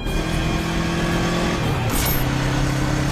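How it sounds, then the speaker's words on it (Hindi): A motorbike engine revs hard and steadily as the rider speeds off, the pitch shifting upward partway through, loud and close with no talk. "प्रसाद बाबू बाइक लेकर निकल गए हैं।"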